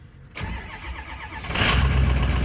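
Red truck engine starting up close: a brief click, then cranking that catches and settles into a steady, fairly loud idle rumble.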